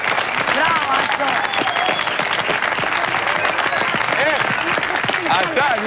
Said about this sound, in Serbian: dajte za večno prijateljstvo još jedan aplauz